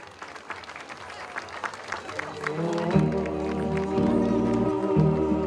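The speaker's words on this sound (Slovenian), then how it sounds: "En aplavz za domske čebelarje in čebelice seveda." A carnival crowd applauds local beekeepers at a village festival, clapping building under a speaking voice before loud sustained music or a band swells in over the applause.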